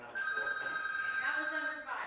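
A telephone ringing during a live call-in giveaway show, a steady electronic trill held for about two seconds with faint talk underneath.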